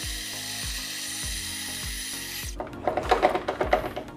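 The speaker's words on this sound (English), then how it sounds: "Okay, so the grinder is done." A Breville Barista Express espresso machine's built-in grinder with a Lesbrew bellow fitted on the hopper, grinding coffee beans in a loud steady whir with rhythmic thumps, then rougher crackling bursts as the last beans run through.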